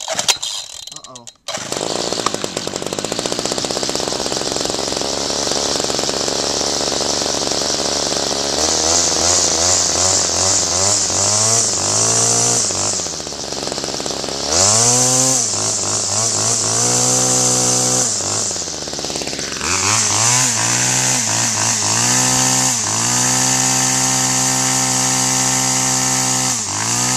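Homelite string trimmer engine pulled to life, then running loud and close with a buzzing two-stroke drone, revving up and down repeatedly through the clip.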